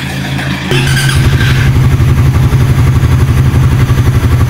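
A Raider 150 Fi motorcycle with an open ram-air setup and stock airbox revs up loud and close after a short quieter lead-in, then holds a throbbing, pulsing engine note through to the end.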